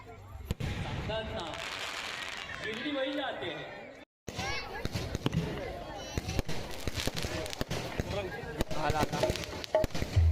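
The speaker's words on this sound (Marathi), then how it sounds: "आपण फटाकेबाजी मात्र बघू शकतायत." Fireworks and firecrackers go off at a Sai temple's first anniversary celebration: repeated sharp bangs and crackles at irregular intervals, heard under steady talking and crowd chatter, with a brief silent gap midway.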